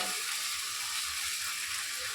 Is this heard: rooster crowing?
no